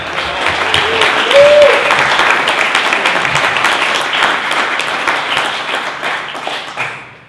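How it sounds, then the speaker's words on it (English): A seated audience at a startup speaker event breaks into a dense, loud round of applause that holds steady for several seconds before tapering off at the end. "Let's give a round of applause for Evan."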